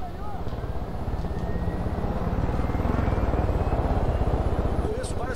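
A helicopter in the video game Far Cry 5 flies with a loud, steady rotor thump and engine drone that fill the whole clip.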